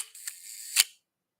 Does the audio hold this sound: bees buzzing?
no